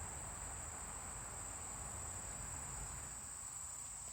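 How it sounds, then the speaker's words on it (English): Steady, dense cricket chirping fills the scene, a continuous high trill holding constant throughout with no voices. "when you listen to the crickets"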